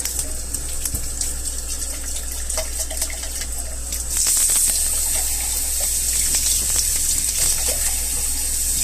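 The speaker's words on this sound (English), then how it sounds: "I gotta rinse my cup so I can use it. I like to rinse it with really hot water" Hot water runs from a tap to rinse a cup, a steady rushing gush that grows louder partway through as the flow strengthens, close and continuous.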